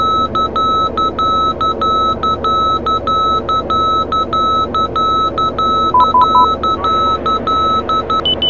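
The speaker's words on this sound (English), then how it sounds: "That's the inner marker for runway 25." Inner marker beacon in a Flight Simulator X cockpit on approach to Innsbruck runway 25, a rapid run of identical high beeps repeating steadily over a low engine hum.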